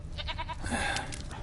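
A goat bleats in a short, wavering cry in The Witcher III video game, fairly close and clear over a soft low hum.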